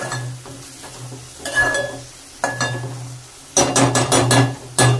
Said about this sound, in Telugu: ఉల్లిపాయలు పచ్చిమిర్చి అయితే వేసుకున్న తర్వాత మనం అయితే కలుపుకోవాలి మంచిగా